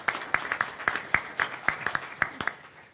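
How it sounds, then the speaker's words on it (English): An audience at a community summit on homelessness gives the mayor a brief, sparse round of applause, a dozen or so distinct claps spread evenly in a thin, irregular rhythm. "How about a round of applause for Mayor Radford"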